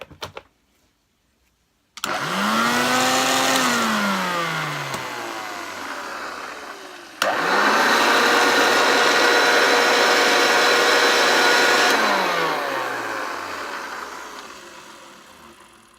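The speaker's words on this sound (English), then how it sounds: "that motor doesn't sound too bad, to be honest" A Hoover Junior 1334 vacuum cleaner motor starts with a rising whine, runs loud and steady, winds down, then is switched on again and spins up to a sustained roar before slowly fading.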